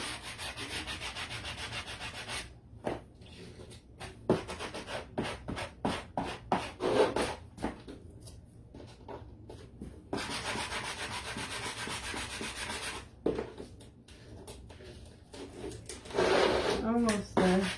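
Sandpaper is rubbed back and forth on a cookie sheet sign in close, rhythmic scratchy strokes with short pauses, and a person talks over part of it.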